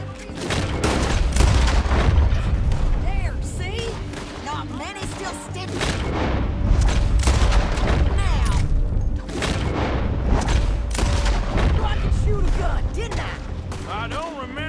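Repeated gunfire booms in Red Dead Redemption 2, loud and dense across the whole stretch with overlapping shots and reverberant blasts, mixed with game sound.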